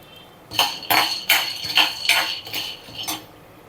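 Peanuts dry-roasting in a pan are stirred with a metal utensil, giving about seven sharp, rhythmic clinks and scrapes close by, with no talking.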